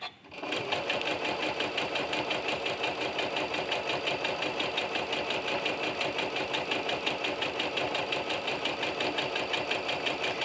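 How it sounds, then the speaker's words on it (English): A sewing machine fitted with a walking foot stitches through a quilt at slowed speed, giving a steady, close, rapid mechanical chatter throughout without talk. "We're going to slow our machine down."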